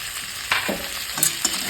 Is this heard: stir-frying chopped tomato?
yes